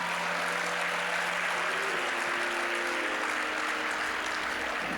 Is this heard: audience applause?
yes